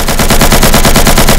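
Rapid automatic gunfire in the video game Insurgency, a very loud unbroken burst of evenly spaced shots filling the whole moment.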